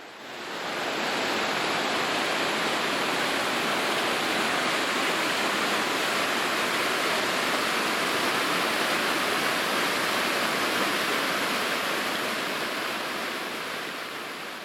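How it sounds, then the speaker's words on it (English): The Bobinda Creek waterfall cascades in a constant, loud, broadband roar of rushing water that holds steady throughout, with no voices. "This magnificent cascade is part of Bobinda Creek."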